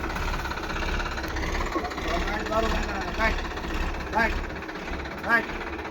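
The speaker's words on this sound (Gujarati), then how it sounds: "બીજું ટ્રેક્ટર આવી ગયું છે ભરાઈને" A tractor engine idles with a steady low knocking rumble throughout, while people talk over it.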